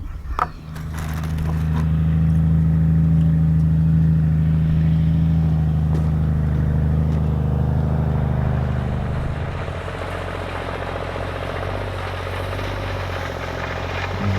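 Deep engine rumble of a heavy truck idling and driving steadily nearby on a gravel pole barn pad, then easing off to a lower drone.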